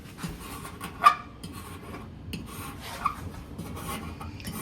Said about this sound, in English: So when I clean my stove, I just come down the eyes and scrape that all down.